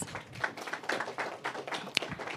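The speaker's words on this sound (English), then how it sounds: "Please give them a round of applause." Audience applause for panel members being introduced at a youth agricultural dialogue event, a steady patter of scattered hand claps at moderate volume with a few sharper claps standing out.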